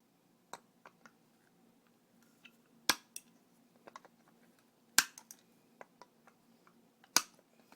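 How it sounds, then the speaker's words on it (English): Sharp snipping clicks from nails being cut off after hammering for a homemade carpet knee kicker, a few loud snaps spaced irregularly among faint ticks, close and otherwise quiet. "So I got my nails all hammered in here, and now I'm just going to trim off the heads"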